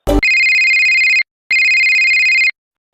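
Two long electronic telephone rings, each about a second with a short gap between, sound loud and alone on a phone-in radio program.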